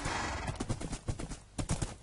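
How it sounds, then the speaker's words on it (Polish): Horse galloping in the Minecraft video game, a quick run of hoof clip-clops in uneven bursts, fairly close and moderately loud with no talk. "Wsiądę teraz na konia."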